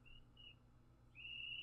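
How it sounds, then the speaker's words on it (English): A child's whistle blown outdoors nearby: two faint short toots, then a longer, louder shrill blast, heard from a distance over a quiet room hum with no talking. "if you hear a whistle in the background,"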